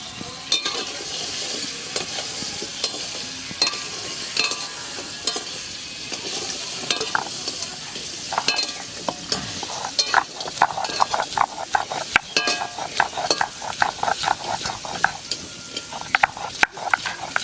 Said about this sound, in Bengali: কাঁকড়া ভাজা হয়ে গেছে, এবার নামিয়ে দেবো।